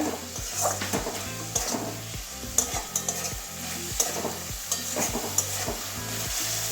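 Masala with capsicum and tomato sautéed in oil, a steady sizzle with rhythmic scraping strokes of a spatula against the pan roughly every half second, close and fairly quiet, no speech.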